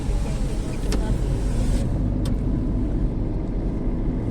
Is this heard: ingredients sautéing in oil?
no